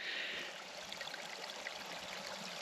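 A free-flowing stream of meltwater from melting ice on a frosty overnight hike in the Haystacks, a bright, steady close rush and trickle of running water, heard alone without talk.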